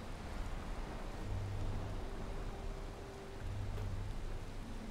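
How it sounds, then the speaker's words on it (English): Rain in the video game Valheim, a steady soft hiss of rainfall that stays even throughout with a faint low rumble beneath, quiet and with no talk. "Oh yeah, but it's raining."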